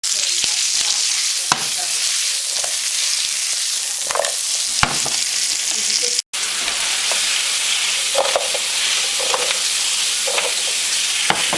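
Salted and peppered zucchini with Mrs. Dash seasoning sauté in olive oil in a pan, giving a loud, continuous, close sizzle with occasional clacks and stirring scrapes, with no talking.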